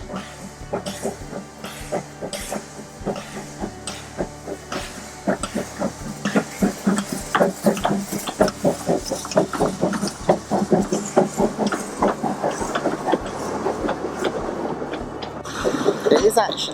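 A heritage steam train runs fast along the rails, with a steady rapid clatter of wheels over rail joints and rhythmic chuffing. The sound stays close and continuous and builds louder toward the end.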